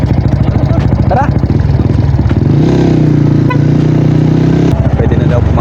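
Yamaha Sniper 155 motorcycle idling near a RoRo ferry ramp, a steady loud low engine putter with clattery texture and a brief throttle blip, voices talking over it.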